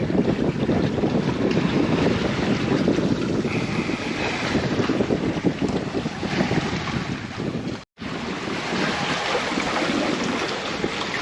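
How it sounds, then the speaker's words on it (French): Continuous roar of wind buffeting the microphone aboard a sailboat, with rushing water along the hull, loud and steady with a brief dropout. "Belle navigation sous voile."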